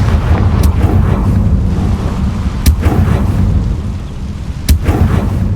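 Confringo fire spell cast in the Hogwarts Legacy video game, heavy rumbling blasts with a few sharp cracking bursts over a dense, roaring low background.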